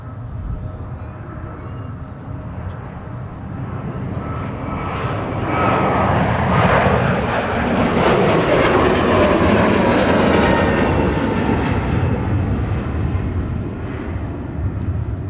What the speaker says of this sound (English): first we're going to get treated to some A321neo action for Delta